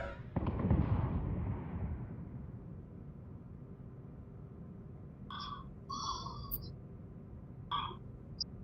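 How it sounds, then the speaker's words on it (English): Phaser fire from a starship at a nearby vessel in the Star Trek Bridge Crew game: a burst of booming, rumbling weapon discharge that fades out, followed by several short electronic beeps and chirps. "Target the nearby ship and fire phasers at it."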